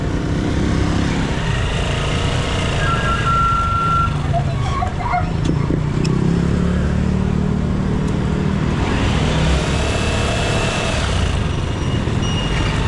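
Busy road traffic with cars and trucks rumbles steadily and loudly, while a truck's reversing beeper chirps repeatedly through the mix alongside engine drone.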